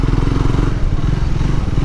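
A Triumph Scrambler 400X motorcycle engine runs close by with a loud, steady low throb and a fast, even pulse that holds throughout.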